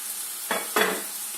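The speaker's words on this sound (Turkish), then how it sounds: "Ve alttan da çıtırdamaya başladı." Green peas cooking with olive oil in a pan give two short bursts of sizzle and stirring scrape close by, against a steady low hiss, with no talking.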